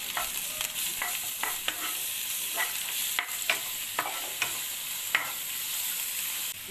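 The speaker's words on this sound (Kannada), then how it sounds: "ಚೆನ್ನಾಗಿ ಈರುಳ್ಳಿ ಬೆಳ್ಳುಳ್ಳಿ ಫ್ರೈ ಆದಮೇಲೆ ಶುಂಠಿ ಬೆಳ್ಳುಳ್ಳಿ ಪೇಸ್ಟ್ ಹಾಕ್ಕೊಂಡು ಫ್ರೈ ಮಾಡಬೇಕು." Onion, garlic and ginger-garlic paste frying in a pan for a fish egg curry, a constant soft sizzle broken by repeated sharp clicks of a spatula stirring against the pan.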